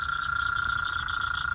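A giant bullfrog caught at a pond gives a steady, sustained droning call, loud and close, holding one even tone without a break and with no voices over it.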